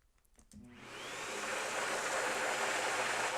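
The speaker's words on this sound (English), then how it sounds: "Let's give it another test here, what I'm calling the vacuum cleaner or the Hoover test." A vacuum cleaner switches on after a brief quiet start and quickly rises to a loud, steady broadband roar with a high whine, running continuously to the end.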